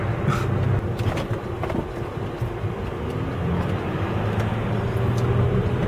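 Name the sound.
Range Rover Sport turbocharged diesel car driving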